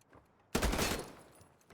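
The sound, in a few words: gunfire in the video game Battalion 1944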